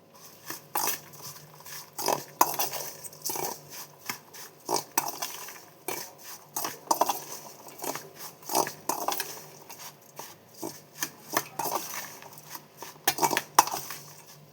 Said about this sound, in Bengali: এটাকে ভালো করে মিক্স করে নেব।